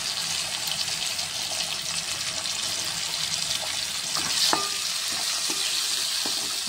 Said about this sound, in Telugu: టమాటా ముక్కలు కూడా నూనెలో మంచి గోలాలి.